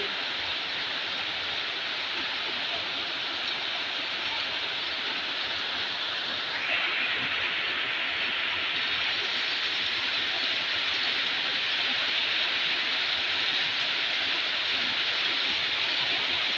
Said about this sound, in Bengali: বিকাল হয়ে গেছে, মেঘ চালাইতে আছে না, বৃষ্টি।